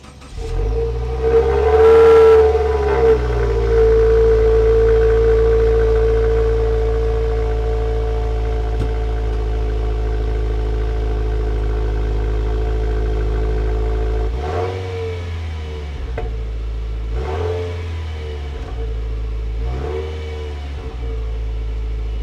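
A 2021 Subaru WRX Sport engine, recorded close to the exhaust, cranks and fires up, roars through a quick rev, settles into a deep idle, then is blipped in several more throaty revs.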